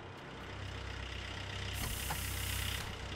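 A truck engine idles in the Gold Rush The Game video game, a low, steady rumble heard faintly and evenly for a few seconds, with a brighter hiss rising near the end.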